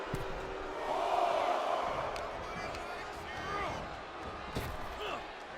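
A snap power slam lands in the WWE 2K24 wrestling game, a body impact under steady arena crowd noise while commentators talk throughout.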